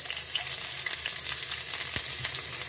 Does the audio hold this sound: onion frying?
yes